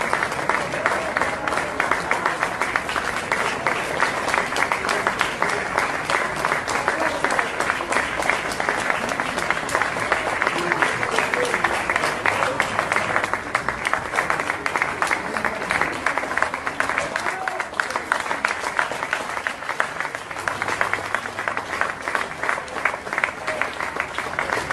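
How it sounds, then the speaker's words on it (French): Sustained applause from a crowd greeting Cuban helpers arriving at an airport in Italy. Dense, steady clapping fills the whole stretch without letting up. "Voici leur arrivée à l'aéroport en Italie sous les applaudissements."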